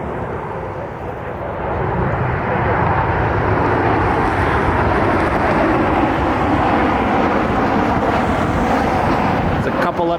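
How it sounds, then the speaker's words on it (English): An Alaska Airlines Boeing 737 inbound from Seattle makes a steady, loud broadband jet roar that swells after the first couple of seconds and holds with wind buffeting, watched by plane spotters at Cleveland. "737 inbound from Seattle."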